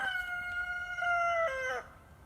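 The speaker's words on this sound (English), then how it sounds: "was a rooster." A single rooster crows once, a loud, clear cock-a-doodle-doo with a long sustained middle note and a falling finish, ending abruptly into near silence.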